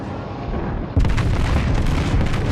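New York battleship main guns firing in World of Warships, a loud deep boom bursting in about a second in and rolling on as a dense rumble under continuous engine and sea noise.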